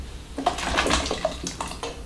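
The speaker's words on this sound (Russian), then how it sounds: "Отправляем наш картофель в кипящую воду." Cubed potatoes splash into a pot of boiling water, giving a brief, close burst of watery splashing and bubbling that sounds once and then fades.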